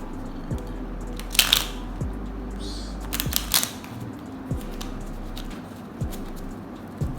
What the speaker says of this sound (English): give it a nice riffle shuffle.